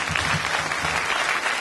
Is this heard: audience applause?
yes